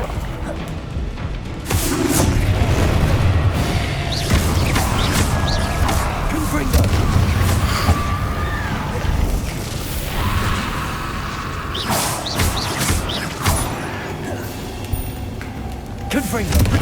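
Confringo fire-spell explosions burst during Hogwarts Legacy combat, several loud booming thuds at irregular intervals over a busy game soundscape with some voice-like sound mixed in.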